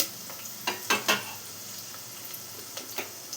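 Onions, curry leaves and tempering spices fry in oil for a cucumber curry, a light hiss broken by several crisp clinks and scrapes of a spoon stirring the pan, with no voice.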